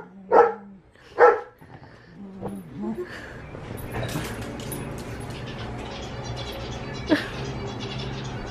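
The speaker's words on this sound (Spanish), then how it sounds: "Este perro se enoja cuando lo cargan" An angry dog barks twice, loud and close, in quick succession, followed by softer growling and rustling while people talk nearby, then one more sharp yelp near the end.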